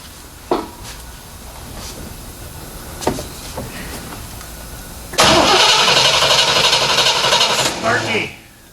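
A Corvette C3 with no spark after upgrades cranks repeatedly without firing, a churning starter whir that grows louder and denser midway, with brief knocks and faint talk underneath.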